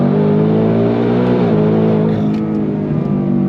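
A Ford Mustang Dark Horse Hennessey H850 with a supercharger accelerates hard in second gear, a loud, close, continuous engine roar whose pitch climbs steadily throughout.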